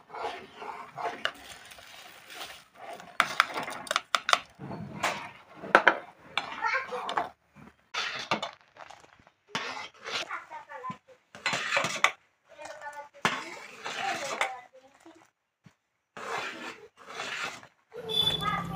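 A metal spoon clinks and scrapes intermittently against a pot as 150 grams of rice is stirred into boiling milk with cardamom for kheer, the knocks coming in irregular bursts with brief pauses.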